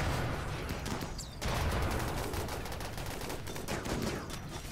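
Rapid gunfire as colonists shoot at passing travelers in the video game RimWorld, a dense continuous crackle of overlapping shots with a brief lull, then resuming steadily, loud and without talking.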